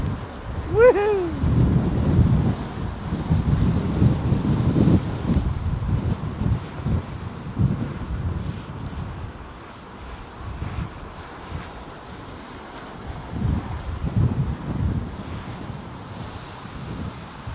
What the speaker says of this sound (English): that wind's really picking up